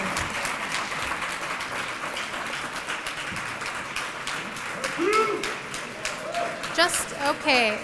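Debate audience applause fills the hall as a steady wash of clapping, with a voice speaking over it near the end.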